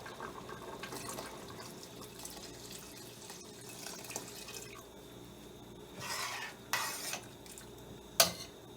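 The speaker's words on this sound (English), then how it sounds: "I'm gonna put some more water also." Water poured into a pot of Rasta-style Ital vegetable soup with ground provisions, a soft running trickle with light splashes and a few clinks near the end.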